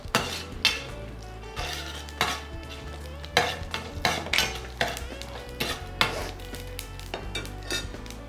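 Mustard seeds, cumin and dried red chillies frying in oil for a tempering, with a low sizzle beneath repeated metallic clanks and scrapes of a spoon stirring the pan, close and fairly quiet.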